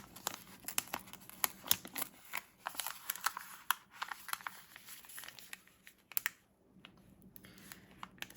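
Decorative sticker boxes being peeled off a sticker sheet for a planner, a close run of crinkling, tearing rips and paper rustles with brief pauses, heard alone.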